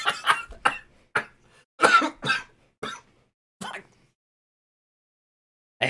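Several harsh coughs from one person indoors, close to the microphone, coming in a rapid burst of short bursts, then a long pause before one last cough.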